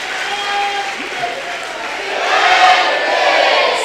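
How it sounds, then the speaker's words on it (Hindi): A large religious gathering claps and cheers together, a broad crowd roar with scattered voices that swells louder toward the end. "तालियां बजा दीजिएगा।"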